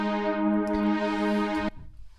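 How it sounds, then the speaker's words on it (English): A sustained synth tone from the Presence instrument in Studio One holds for under two seconds while its filter cutoff is swept, gently shifting its brightness, then cuts off into quiet. "I can sweep this filter up and down, giving an effect"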